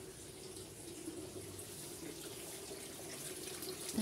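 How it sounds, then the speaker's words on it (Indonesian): Running water pours steadily into a backyard fish pond, a constant soft splashing hiss with no breaks, faint and unaccompanied by speech. "Ini air mengalir, berikan kehidupan."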